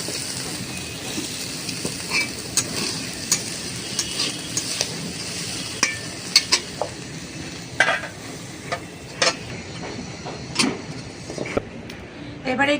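Fried freshwater snails are stirred and tipped out of a pan, giving a steady frying hiss and repeated sharp metal scrapes and knocks at irregular intervals.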